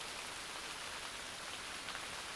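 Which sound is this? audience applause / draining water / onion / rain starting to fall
rain starting to fall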